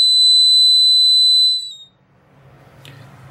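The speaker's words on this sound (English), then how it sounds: "Then I'll press device 6 and the buzzer is turned on." A Bluetooth-controlled buzzer sounds a steady, loud, high-pitched electronic tone for about a second and a half, then cuts off, leaving faint room noise and a small click.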